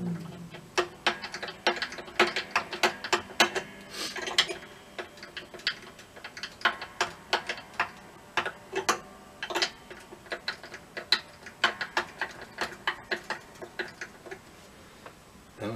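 Guitar tuning peg turned to loosen a string during a string change, heard as a close run of quick irregular clicks and ticks with no talk.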